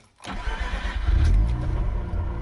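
A cold car engine cranks briefly and catches, then settles into a steady, close rumbling idle.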